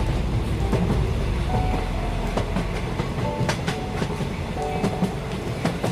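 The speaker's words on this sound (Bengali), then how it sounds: "ট্রেনটা তার নির্দিষ্ট টাইমে চলতে শুরু করল" A train gets under way with steady rumbling, rhythmic clickety-clack and faint metallic squeals, loud and close as if heard from inside a carriage.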